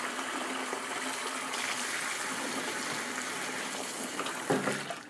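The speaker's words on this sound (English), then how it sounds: "All that mucky water keeps tipping out" Muddy water from washing fleece pours and gushes steadily out of a tipped container and drains away, a continuous, fairly quiet flow with a brief splashy surge near the end.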